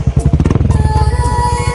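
A nearby motorcycle engine pulses in a fast, even chugging rhythm as the bike pulls away, loud and close, with no speech over it.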